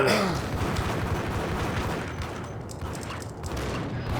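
Gunfire rattles in the Max Payne shooter game, a dense, continuous barrage of overlapping shots and echoing blasts that stays loud throughout with no pauses and no voices.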